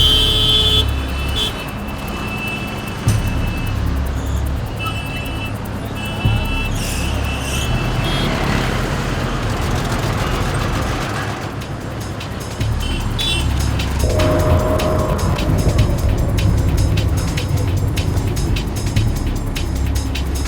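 A car drives steadily with a dense, loud road and engine rumble throughout. The noise shifts slightly in tone partway through, with a faint tonal buzz layered above the roar.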